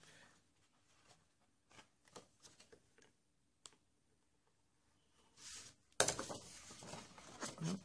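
Scissors cutting through cardstock while making a Christmas photo album, heard as quiet, scattered snips and rustles that end in a louder, denser burst of paper handling.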